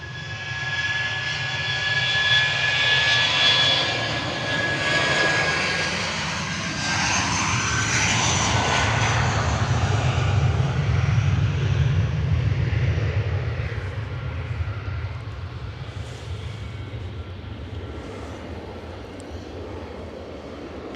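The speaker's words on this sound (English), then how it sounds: "Eurowings on the roll" A Eurowings jet heading for Dusseldorf on its takeoff roll at Manchester: whining engine tones sweep and swell over a deep rumbling roar, building to a peak midway, then slowly fading as it departs.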